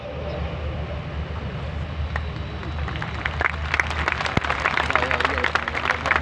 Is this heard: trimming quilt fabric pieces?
no